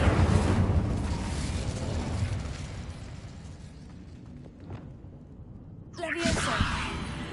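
A fire spell cast in Hogwarts Legacy erupts in a loud fiery burst at the start, then a whooshing roar that fades, with a second sharp flare near the end; a voice speaks over part of it.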